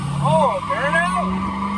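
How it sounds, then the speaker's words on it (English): Truck tires squealing in a burnout, a wavering high-pitched screech over a steady engine drone, loud and close, lasting under two seconds. "This thing's never done a burnout without a tune on it."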